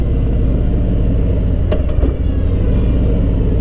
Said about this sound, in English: I'll show you guys just how well it downshifts beautifully.